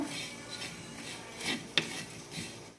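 Half an onion and five garlic cloves fry in a pan, with a quiet sizzle broken by a few clinks and a sharp tap of a utensil against the metal.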